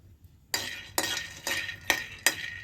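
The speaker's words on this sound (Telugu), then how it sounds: "స్టవ్ వెలిగించుకుని కడాయి పెట్టి 2 స్పూన్లు పల్లీలు వేపుకోవాలి" Peanuts roasting in a metal kadai on a stove, stirred with a spoon: five sharp, close scraping clinks in an even rhythm over a quiet background.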